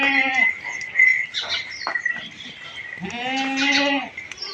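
Goats bleat on a goat farm where some does are pregnant and some have kids. Several loud, close bleats come in bursts, with quieter animal sounds in between.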